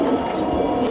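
Giribaz high-flyer pigeons coo in low, soft, rolling murmurs that repeat nearby, over a steady background hum.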